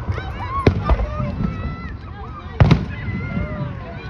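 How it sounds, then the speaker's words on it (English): Fireworks burst outdoors in two sharp, loud booms about two seconds apart, with the crackle and scattered pops of the display ringing between them while nearby people talk excitedly. "we randomly stumbled upon fireworks"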